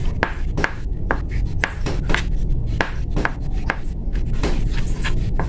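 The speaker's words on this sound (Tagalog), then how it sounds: "malapit na akong matapos dito sa aking hinihiwa." A knife slices ingredients for Filipino-style fiesta spaghetti on a wooden cutting board, giving quick, steady, close taps about twice a second over a muffled room background.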